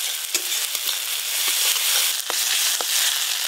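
Coriander, fennel and mustard seeds sizzle in hot oil for a hilsa curry, giving a loud, close, continuous crackle with quick pops and the scrape of stirring.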